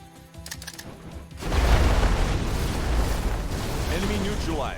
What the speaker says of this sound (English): I'm not sure how far that explosion reaches